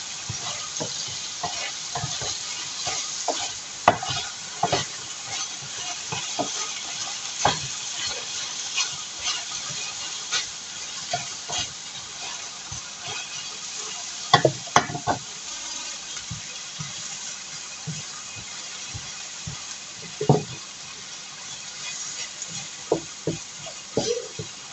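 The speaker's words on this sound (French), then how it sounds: "Je vais rajouter les tomates avec les légumes." Chicken, vegetables and tomatoes stir-frying in a pan for Thai rice, a steady close sizzle broken by frequent sharp scrapes and clacks of a utensil stirring, no talking.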